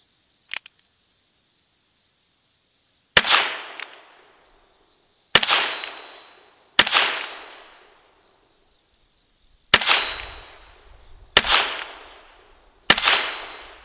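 Ruger Wrangler revolvers, each loaded with six rounds, firing sharp, loud reports: an initial faint pop, then six distinct shots spaced a second or two apart, each with a decaying tail and a steady high insect-like hum underneath.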